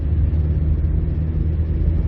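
A low, steady engine rumble from a 1989 Nissan Sunny B12 1.6 estate, droning close and constant, somewhat noisy and unrefined, with no speech over it.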